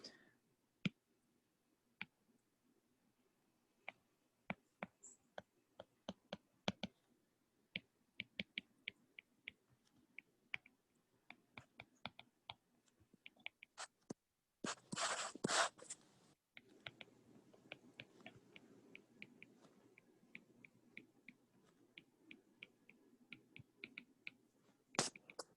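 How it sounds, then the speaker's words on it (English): Pen or marker writing on a board or paper makes sparse, quiet taps and short scratchy strokes, with a brief louder rustling burst partway through. "Let me write that here."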